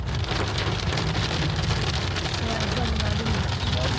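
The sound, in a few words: continuous heavy rain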